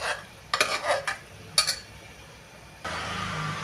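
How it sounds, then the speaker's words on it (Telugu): Cooked rice and dal being stirred into simmering bisi bele bhaat in a pot, a few short scraping bursts of the spoon followed by a steady soft bubbling hiss near the end, no talking. "రైసు, పప్పు వేసుకొని కలుపుకోవాలండి."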